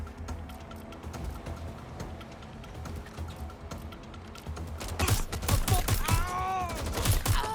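Gunfire bursts out in Watch Dogs: Legion, rapid volleys of shots that grow loud and dense in the second half after quieter game ambience with some voice.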